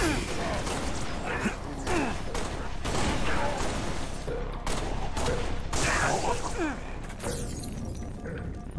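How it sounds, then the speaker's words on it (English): Beam rifle fire in the video game Halo: Reach, with repeated sharp shots and bursts of gunfire amid loud game action. "Yeah, no, I like the beam rifle."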